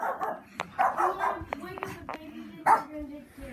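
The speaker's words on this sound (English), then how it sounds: "My dog." A pet dog inside a house barks in several short, sharp yaps and whimpers at close range, mixed with people talking nearby.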